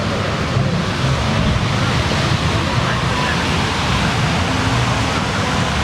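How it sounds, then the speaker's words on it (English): Rough sea surf breaks continuously on a crowded beach, a loud, steady wash of waves with wind noise across the microphone and faint crowd chatter beneath. "the tides are really rough"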